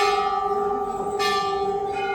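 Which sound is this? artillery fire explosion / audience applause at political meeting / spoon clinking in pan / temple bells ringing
temple bells ringing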